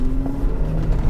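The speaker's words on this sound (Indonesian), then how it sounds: "suara mesinnya jauh lebih racing daripada laju si mobilnya" A first-generation Porsche Cayenne with a 3.2-liter engine revs hard under throttle on a dirt rally overland build, a loud, close engine roar filling the whole short stretch without speech.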